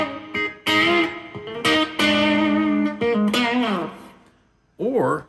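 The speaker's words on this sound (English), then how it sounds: "you can coax a little bit of distortion out of this pedal" A guitar is plucked with bare fingers, no pick, through a distortion pedal. Picked notes and chords ring out in short phrases with gaps, slightly gritty and mostly sustained, ending with a brief bending, wavering note.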